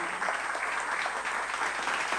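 An audience at a farmers' banana conference in Jalgaon claps steadily and loudly together, a dense unbroken patter with no talk over it.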